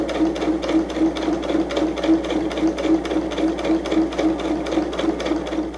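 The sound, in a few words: sewing machine stitching layered fabric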